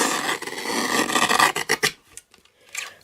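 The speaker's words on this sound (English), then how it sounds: "Bring back my mini trimmer and I'm going to trim off some of this." A mini paper trimmer slices through cardstock while making a rainbow card: a steady, close scraping rasp for about two seconds, then a few short scratchy strokes and a brief final rub, with no talking.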